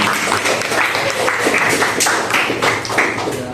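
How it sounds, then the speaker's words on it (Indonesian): A class of schoolchildren claps together at the close of a lesson, a close, uneven patter of hands with distinct louder slaps scattered through it. "tepuk tangan buat kita semua"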